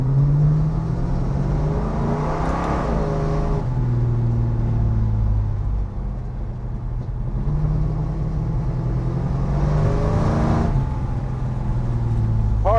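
A 1963 Dodge Polara with a Hemi V8 pulls away gently in first gear. It gives a deep, loping idle burble that swells into two brief revs, close and steady throughout.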